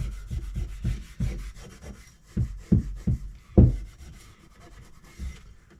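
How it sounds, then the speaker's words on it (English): Steel wool rubs against pitted vintage axe steel in short, rhythmic strokes, close up and fairly loud, with a few firmer scrubs mid-way. "Rub them down with some steel wool and get them oiled."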